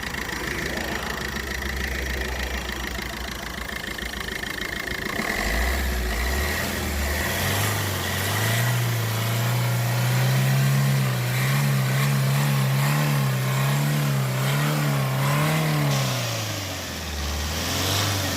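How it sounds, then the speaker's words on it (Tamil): A vehicle engine idles with a steady low throb, then revs up into a sustained, rising roar that holds for several seconds before dropping back, recorded close with no talking. "இப்போ ரைஸ் பண்ணி வரேன்."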